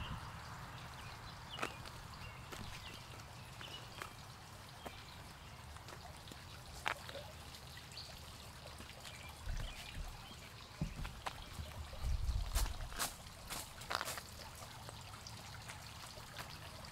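Water trickling from a garden hose onto strawberry plants, a soft, faint steady flow and dribble with scattered clicks and brief splashes, recorded outdoors.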